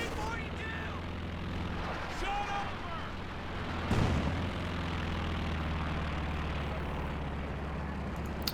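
Artillery barrage in Company of Heroes 2, a continuous low rumble of distant blasts with one heavier boom partway through, under someone commentating throughout.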